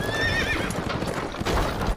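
A horse pulls a carriage in a film scene, hooves clip-clopping under a short whinny, with rattling movement throughout a brief, moderately loud stretch.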